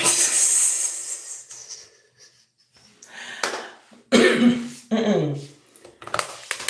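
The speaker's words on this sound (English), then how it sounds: "the fume from the curlers make me cough" Several harsh coughs in separate bursts, triggered by fumes from hair curlers, with wheezy breaths and quiet pauses between them, close to the listener.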